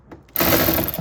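A ratchet wrench turns a 10mm bolt on a Ford Bronco, giving a quick, loud burst of close metallic clicking after a brief quiet start.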